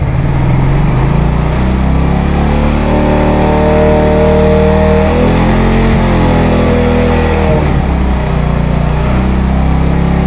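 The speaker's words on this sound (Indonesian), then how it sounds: "Tapi pada saat saya tambahkan gas" A Yamaha NMAX 155 scooter engine revs loudly and up close as the throttle opens, its pitch climbing and then easing back in a continuous drone with no voices.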